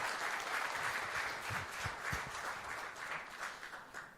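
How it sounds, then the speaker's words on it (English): Audience applause for both speakers after the Insight Storm session with Arnab Goswami and Sam Balsara, a sustained dense wash of clapping from a large hall, soft and distant, with faint low murmurs underneath. "a round of applause for both of them"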